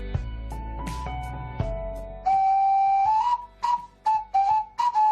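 A homemade flute carved from a carrot gives breathy, whistle-like tones, several short held notes and brief toots that rise and wobble slightly in pitch, loud and close with choppy gaps between blows.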